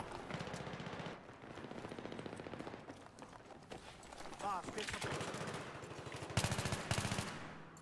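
Rapid bursts of automatic P90 fire in a Battlefield 3 match, sustained crackling volleys with brief pauses, loud and close, mixed with other battlefield gunfire.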